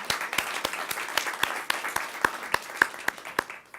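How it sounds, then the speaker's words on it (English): Audience applause at the 2018 BPACF annual meeting, honoring the board of trustees: a steady patter of many hands clapping in a room, fairly close and even, with no talking over it. "If you could join me in giving them a round of applause."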